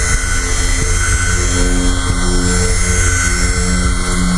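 Power tool color sanding the paint on a Camaro, a steady close whine with a constant hum and faint periodic ticks, running alone throughout.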